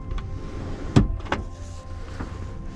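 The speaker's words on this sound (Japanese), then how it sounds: "ここの助手席のシートバッグのところのレバーでこのように倒したりスライドすることもできる" Passenger seat of a Honda N-BOX Custom Turbo being folded and slid by its lever, giving two sharp mechanical clunks close together near the start, then a quiet cabin with a faint later click.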